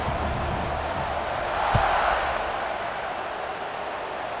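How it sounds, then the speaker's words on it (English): A stadium crowd in the EA Sports College Football 26 video game roars continuously as a steady, broad, distant-sounding wall of cheering that swells briefly midway, with no clear talk over it. "They're set to kick it off, and this crowd now ready to get behind them."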